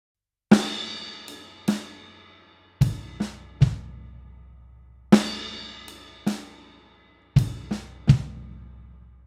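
A drum kit plays a sparse lick with ride cymbal, bass drum and snare triplets: eight crisp, ringing hits in uneven groups, each decaying quickly, heard alone and close.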